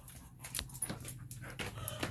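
A dog pants with quick, breathy huffs in short irregular bursts at close range, just before heading out for a morning walk, with no talking.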